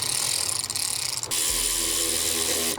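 Quick ratcheting clicks come from a ratchet tightening the air filter clamps on a cold air intake on a C8 Corvette, close and loud, in two short bursts with a brief pause between.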